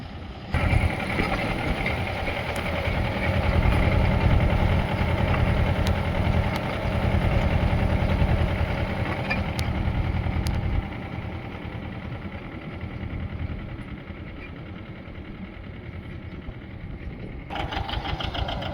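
A tractor engine runs steadily with a low droning rumble throughout while spraying a groundnut field, close by and fairly loud, easing slightly toward the end.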